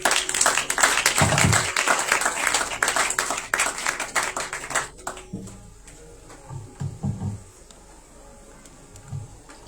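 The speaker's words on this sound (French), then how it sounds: "Sous vos acclamations, s'il vous plaît." Audience applause at a Passover 2025 church gathering, dense and loud for about five seconds, then thinning into scattered claps that fade toward the end.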